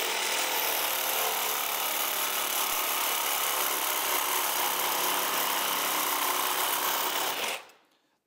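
A power tool grinds loudly and steadily for about seven seconds while removing studs that held the old chain case on a modified Yamaha Enticer snowmobile, then cuts off abruptly into silence.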